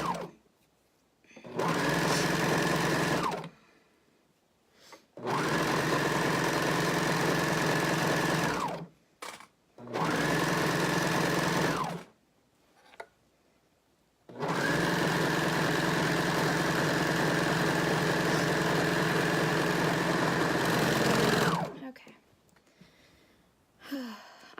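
A serger sewing machine stitches in four loud bursts of fast, steady whirring, separated by short quiet pauses. The last run is the longest.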